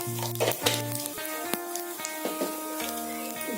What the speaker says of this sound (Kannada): ಜೀರಿಗೆ ಸಿಡ್ದಿಂದ್ರಿ.